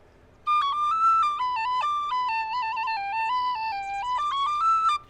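A Tony Dixon tin whistle plays a clear, steady melody of sustained and stepped notes on very light breath, close and alone for about four and a half seconds.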